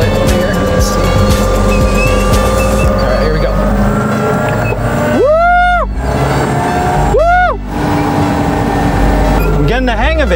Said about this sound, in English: I do wanna full throttle it over here.